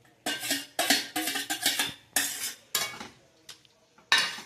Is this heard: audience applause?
no